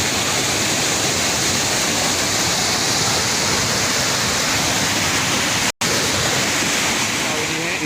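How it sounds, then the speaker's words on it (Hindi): A swollen village river rushing close by after the first monsoon rain, a loud, dense and unbroken roar of water with a brief dropout partway through. "यहाँ पर नदी बहुत करीब पहुँच चुकी है"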